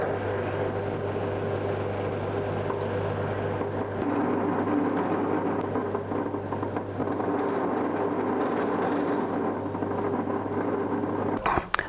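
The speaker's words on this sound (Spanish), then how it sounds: "pasamos por el descascarador, son 2 rodillos de goma que descascaran el arroz y sale el arroz integral" A rice husking machine with two rubber rollers stripping husks from rice drones steadily and loudly up close, a constant mechanical whir with a low hum that shifts partway through.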